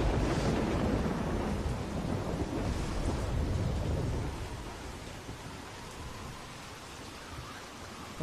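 Heavy rain pours steadily with deep rumbling thunder during a storm scene in The Walking Dead video game, loudest over the first four seconds before easing to a constant softer downpour, with no voices.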